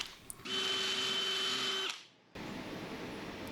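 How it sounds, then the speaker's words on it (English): A power drill with a Forstner bit whines steadily for over a second, stops, then a fainter rough grinding follows, with a couple of small knocks around it. "I'm just going to drill it out to the closest size I have in the Forstner bit."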